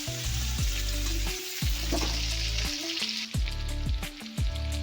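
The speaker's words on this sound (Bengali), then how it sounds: "এবার আমি গ্যাসটা বাড়িয়ে একটু ভালো করে নাড়িচাড়ি ভাজা করে নেবো কলাটা একটু।" Green banana frying in oil in a pan, with a loud, close sizzle broken repeatedly by scraping strokes of a spatula as the pieces are stirred over high heat; no voices.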